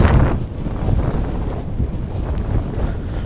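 Strong wind from a snowstorm in Denmark roars steadily and loudly against the microphone as low buffeting rumble with gusty surges, with no talking.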